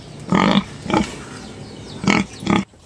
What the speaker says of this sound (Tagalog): Ngayon oras na para pakainin na natin tong mga pigi natin, kasi gutom na.